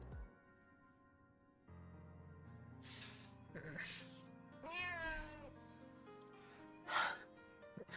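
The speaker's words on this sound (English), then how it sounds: "Cat. Can just come along and start meowing at me like this." A cat meowing close by: several drawn-out, wavering meows over a quiet hum, the last one sharper and louder.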